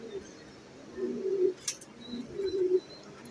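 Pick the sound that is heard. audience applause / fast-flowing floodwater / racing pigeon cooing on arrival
racing pigeon cooing on arrival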